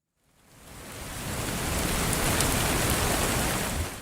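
Steady rain swells in from silence within the first second, then holds as a dense, even hiss of drops on a surface, used as a sound effect for a weather report segment.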